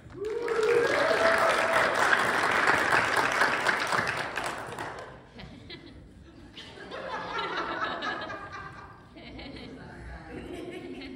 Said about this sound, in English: cheer for Freeman